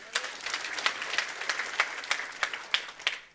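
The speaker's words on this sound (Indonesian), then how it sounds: "Beri tepuk tangan." A church congregation at a sermon gives a short burst of applause, with sharp individual claps standing out over a modest spread of hands, fairly close and without speech.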